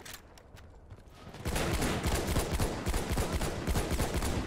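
Battlefield 1 gameplay gunfire: a few scattered shots, then a dense burst of rapid automatic fire that keeps rattling loudly to the end.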